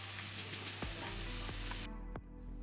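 Bean and eggplant curry frying in a pan, with a steady close sizzle and a few sharp scrapes of a spoon stirring the vegetables.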